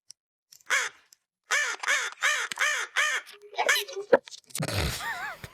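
A raven in the animated film Corpse Bride caws in a series of rhythmic, harsh calls, followed by a rougher, groaning burst of noise at the end.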